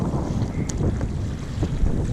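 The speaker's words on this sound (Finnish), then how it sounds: "vähän heiluttaa nää aallot tätä kulkuneuvoa" A small boat rocks through choppy lake waves near a rocky shore, with a steady wash of water and loud wind buffeting the microphone throughout, low sloshing thumps rising and falling without any talk.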